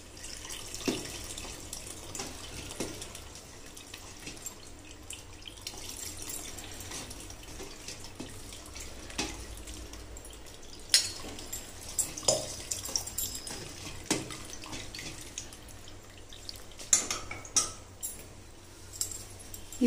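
Paneer made for rasagulla is rinsed in water and stirred with a spoon, giving soft running and splashing water with scattered faint clinks and taps of the spoon against the vessel, fairly quiet throughout.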